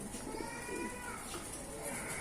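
Fancy pigeons in a loft coo softly and steadily at close range, with a low continuous murmur of several birds over faint background noise.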